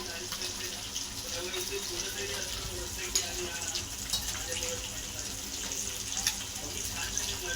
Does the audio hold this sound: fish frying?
yes